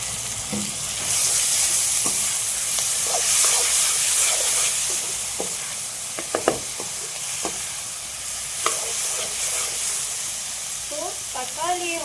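Chopped tomatoes frying with softened onions for a chicken gravy, stirred in a pan: a steady sizzle and hiss runs throughout, with scattered spoon scrapes and clinks against the pan nearby.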